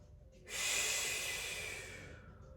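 A single deep exhale or sharp nasal breath during a yoga class, close and loud, rising abruptly then slowly fading over about two seconds, with no talk over it.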